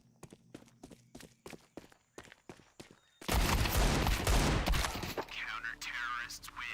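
Rapid SMG gunfire in a video game, a burst of loud dense shots following a run of sharp evenly spaced clicks or footsteps, with game noise continuing after.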